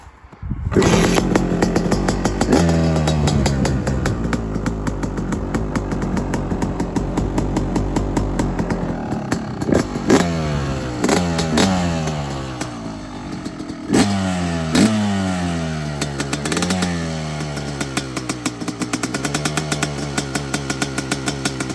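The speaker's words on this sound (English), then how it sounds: "Let's see if she starts up first kick." A Yamaha YZ250 two-stroke motorcycle, freshly fitted with a new Apex head, kicks over and fires, then runs steadily at a loud close-range idle with repeated sharp blips of the throttle rising and falling. No one talks over it.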